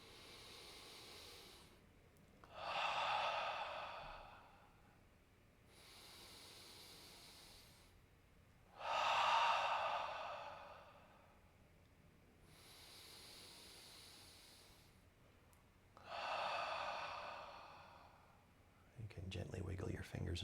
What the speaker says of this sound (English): take 3 deep breaths to signal a clear transition to your body